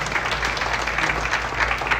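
An audience applauds volunteers at a Health Camp of New Jersey volunteer appreciation and kick-off meeting, with steady, dense clapping throughout that is fairly close and loud and carries no speech.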